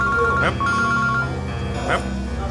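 A phone ringtone plays loudly, short melodic tones repeating over a steady background hum, with a couple of brief louder bursts.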